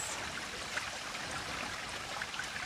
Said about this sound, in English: you might hear the sound of the water moving